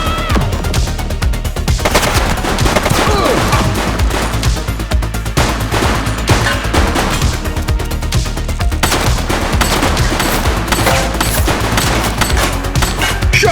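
Sustained heavy gunfire in The Precinct video game, loud rapid automatic bursts mixed with single shots rattling continuously for over thirteen seconds, dense and unbroken.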